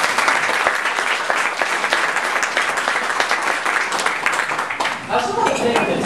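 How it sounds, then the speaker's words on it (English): A tech meetup audience claps steadily and densely throughout, a continuous wash of applause at even loudness from start to finish. "So if everybody could give them a round of applause"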